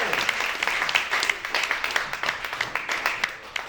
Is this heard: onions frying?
no